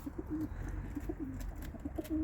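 Soft, low pigeon coos repeat in short rolling phrases, close by over a faint steady background hum.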